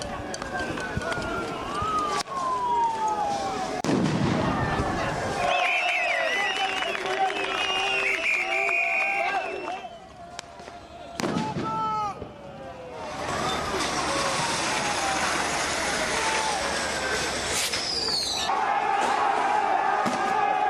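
Paris street protest where police fire tear gas at protesters trying to reach the Élysée Palace, with sharp bangs and whooshing launches over a loud, continuous crowd roar, shouting and distant siren-like wails.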